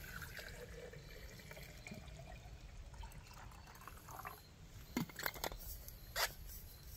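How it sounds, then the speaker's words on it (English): Water running into a container of shelled acorns for cold leaching, a faint steady trickle and patter with a few brief splashy spikes near the end, no voices. "You just fill this up with water."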